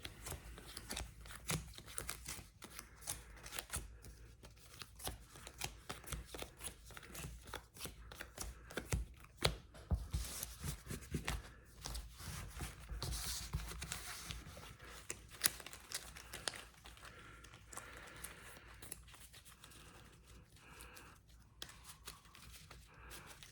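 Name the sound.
shuffling a deck of trading cards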